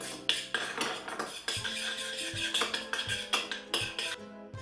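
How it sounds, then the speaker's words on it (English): Eggs are whisked briskly in a bowl with a metal utensil, a quick run of clinking, tapping strokes against the sides, close and fairly quiet, with no talking. "There are the eggs in there. And I'm going to give them a bit of a whisk up."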